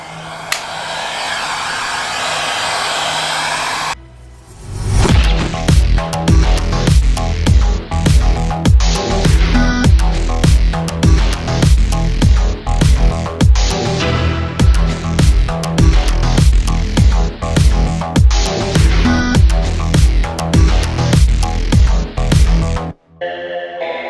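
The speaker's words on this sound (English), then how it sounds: "try and clearance and grind down the stud length from these fender trims" Loud, sustained power grinding on the stud ends of Toyota AE86 fender trims, running almost without break for about twenty seconds with a steady rhythmic pulsing as the tool bites, after a short quieter stretch of other noise.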